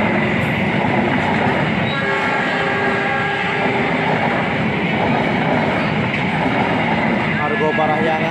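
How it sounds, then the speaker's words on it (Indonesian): A local passenger train with a CC206 locomotive rumbles past loud and close, with steady heavy roar, metallic squeals and a horn-like tone, and a voice talks over it. "Kereta lokal"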